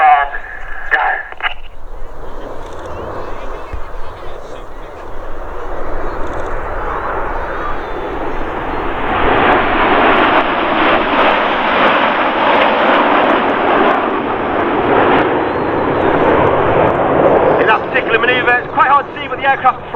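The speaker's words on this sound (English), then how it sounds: "The aircraft flying with their air brakes out." Red Arrows jets flying a display at an airshow build into a loud, rushing roar that swells as they pass overhead and stays strong for several seconds. An announcer talks over a public address system throughout.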